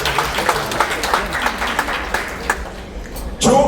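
Audience applause at a memoir book launch at the National Assembly Museum, a close, fairly loud patter of clapping from a gathered crowd with a low background hum and a brief bump at the end.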